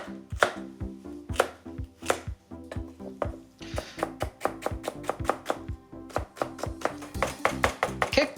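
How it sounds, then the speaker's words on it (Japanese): An onion is finely chopped with a knife on a cutting board: a crisp, steady rhythm of close knocks, slow and spaced at first, then quickening into rapid, even chopping. "最初に玉ねぎ切っちゃいましょうかね。 みじん切りです。"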